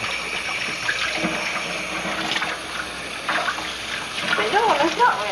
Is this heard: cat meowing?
no